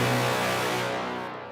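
Two Serum brass synth presets sounding together as one thick, sustained chord that holds steady before the top end fades near the end, close and full with no voices.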